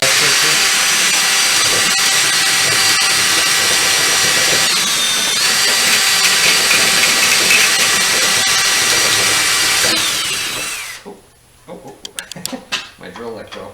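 A power drill turns a spool to transfer wire for a wire-feed welder, with a loud, steady whine and hiss that runs for about ten seconds and then cuts out, followed by clattering handling noises.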